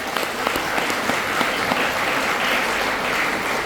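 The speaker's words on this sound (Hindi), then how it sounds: "मैं दिल से उसे स्पॉन्सर के लिए एक जोर ताली का मांग करता हूँ" An audience at a health awareness program claps for a sponsor, a steady, loud burst of many hands clapping that holds for a few seconds.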